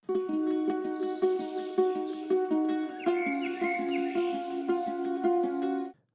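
A sustained violin pad with a washy reverb tail, layered under a repeating plucked pattern and faint high chirps in an ambient indie song, steady and moderately loud throughout.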